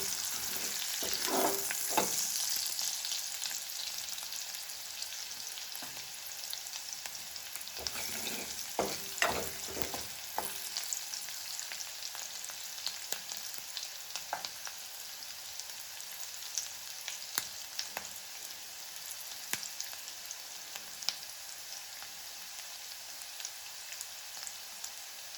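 Garlic frying lightly in a pan for Marathi toor dal varan gives a steady, even sizzle with scattered crackles and a few sharper pops near the start.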